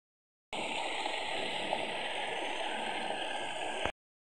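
Waterfall at the base of the Acqua Rossa, a loud steady rushing roar of falling water close by, continuous and broadband with no voices.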